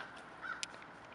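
A bird, probably a crow, caws once, brief and fairly faint, in a large backyard on a cold day.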